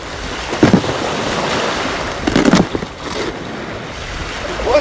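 Ocean surf washing onto a shore, heard as a steady broadband wash with a few louder wave surges rising and falling, mixed with wind buffeting the microphone.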